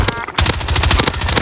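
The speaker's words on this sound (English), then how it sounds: "Where am I getting shot from?" Rapid automatic rifle fire in a Warzone battle royale match, a loud close burst of sharp repeated shots with a brief gap, no talk.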